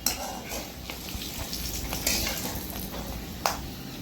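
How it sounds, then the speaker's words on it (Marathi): Almonds frying in ghee in a pan, a soft, steady crackling sizzle heard close and fairly quiet, with a few sharper pops and stirring scrapes. "आता आपले बदाम पण तुपामध्ये चांगले भाजून झालेले आहेत"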